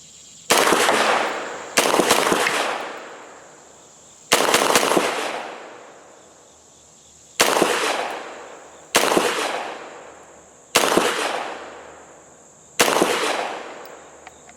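Gforce Jawbone 9mm pistol fired outdoors at a target: seven loud, sharp shots in an irregular sequence, each with a long ringing decay, close and dominant with no talking.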